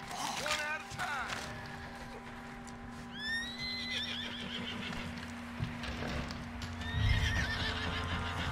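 A horse neighs and whinnies in Red Dead Redemption 2, several shrill rising calls over clip-clopping hooves and game ambience, with voices speaking in the background.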